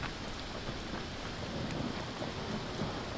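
Rain falling in the video game Dying Light: The Following, a dense steady hiss of rain with a low rumbling undertone, continuous and without speech.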